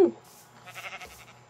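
Sheep bleat faintly a few times amid Minecraft game ambience, with a low steady hum underneath.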